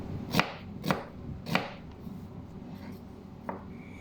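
A knife chopping onion on a board, three firm evenly spaced chops followed by softer, sparser cuts, close and alone with no talking.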